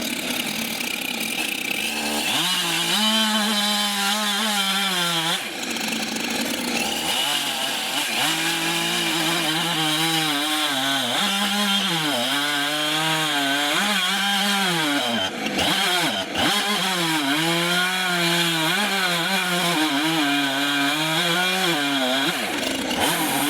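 A chainsaw mill cutting wood for a deer fence, the engine roaring loud and close with rising and falling pitch as it revs and bogs through the log.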